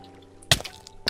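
A Minecraft character jumps into water, making a short splash, and a second smaller splash follows about half a second later, both brief and close.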